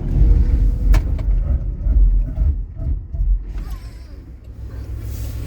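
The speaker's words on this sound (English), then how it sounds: "When I get to the top, I'm going to slam my foot on the brakes." A Tata Octa car brakes hard to a stop, its close engine rumble and road noise dropping away in uneven surges as it slows and settles, with no voices.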